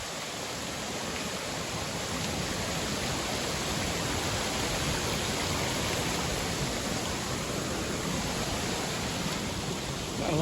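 A waterfall on a hiking trail in Branson, Missouri roars as a steady, dense, close rush of falling water, unbroken and loud throughout with no other sounds.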